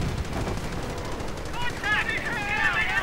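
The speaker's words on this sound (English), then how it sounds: "Panther firing away. Everyone firing away." A Panther tank and other units in a WWII strategy game fire at once, a dense, continuous rattle of gunfire and distant artillery under a commentator's voice.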